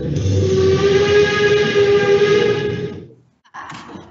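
A train sound effect: a loud, sustained horn blast with rumbling rail noise that holds for about three seconds, cuts out, then returns briefly and fainter.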